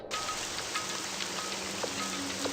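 Dense, steady rain patters over a surface in a video game, a close, constant hiss with scattered drip accents throughout.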